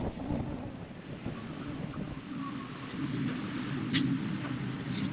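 Strong wind blows at a lakeside spot in Argentina, a steady, loud rushing roar with buffeting on the microphone and a wash like lapping water beneath, with no voices.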